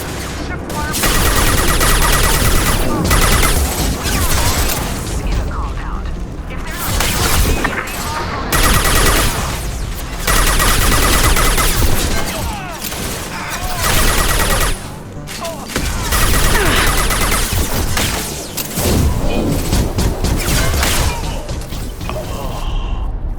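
Sustained heavy gunfire in the video game Mass Effect 2, with dense rapid bursts and booming impacts roaring almost continuously in loud waves with short lulls, accompanied by shouted voices and game music.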